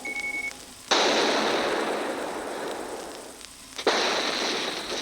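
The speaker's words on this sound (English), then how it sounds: "Here, Lieutenant Commander Donningham and Captain Sirocco observe the fleet's terrific bombardment of Von Braun." Explosions from a fleet bombardment of a city in the Zeta Gundam anime: two big blasts, one near the start and another near the end, each bursting suddenly loud and roaring down into a long rumbling decay, with no talking.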